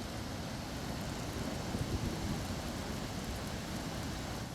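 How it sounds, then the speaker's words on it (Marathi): Water discharges through the four opened curved gates of the Urmodi dam near Satara during heavy rain, heard as a steady, dense roar of rushing water without pauses. "उरमोडी धरणाचे चारही वक्र दरवाजे उघडले यातून पाण्याचा विसर्ग सुरू आहे"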